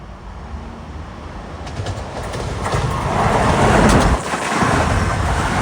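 LIRR train 1914, Penn Station to Ronkonkoma, passes Queens Village eastbound, its roar building from a moderate rumble to a loud, close rush of wheels and rail noise with a brief dip before continuing strongly.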